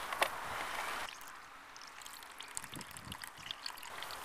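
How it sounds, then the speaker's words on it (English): Apple juice trickling from a hand-turned fruit press, a soft steady watery dribble with light splashes, close and fairly quiet after a brief louder rustle at the start. "And the juice should start coming out soon."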